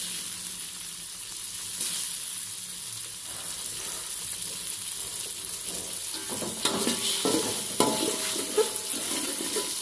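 Egg and shrimp sizzle and get stirred in a hot pan for sautéed pagoda mustard greens, with a steady frying hiss and a few scraping stirs growing busier toward the end.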